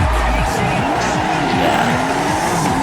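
Drift car in the Assetto Corsa racing game, its tires squealing loudly and continuously through a slide while the engine revs rise and fall repeatedly at close range.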